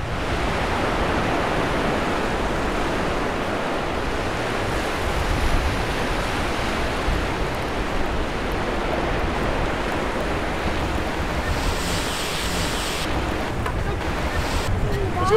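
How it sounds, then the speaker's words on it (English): Ocean waves breaking on a private beach during a fishing outing, a steady, loud, continuous roar of surf with wind noise on the microphone throughout. "Here we are at an unknown private beach."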